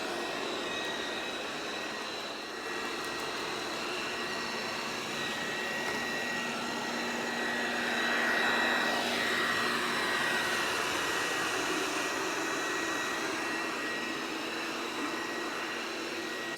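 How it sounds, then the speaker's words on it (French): An Ultenic TS1 robot vacuum and mop runs in vacuum mode indoors, giving a steady whooshing whir with a faint high whine that swells slightly midway, continuous and moderately quiet. "Ce nouvel aspirateur, le TS1 de chez Ultenic, est un aspirateur robot laveur avec station de vidange automatique."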